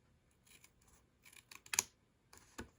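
Scissors trimming paper card pieces for a handmade card, a few quiet snips and crisp cuts close by with short pauses between them.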